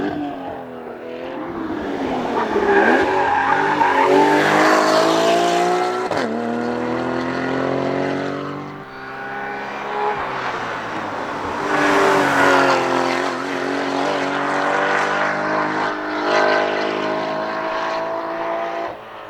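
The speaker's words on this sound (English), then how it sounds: "He has a lot of video of this car going up the mountain, making all the right noises and getting sideways a little bit." A race car climbing a mountain road with its engine revving hard through rising and falling pitches, shifting gears and sliding sideways, loud and close for the whole stretch.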